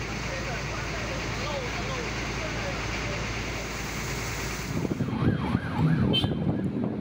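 A distant wailing fire engine siren rises and falls behind a busy roar of traffic and crowd noise, growing louder and nearer toward the end, during a warehouse fire in Semarang, Indonesia.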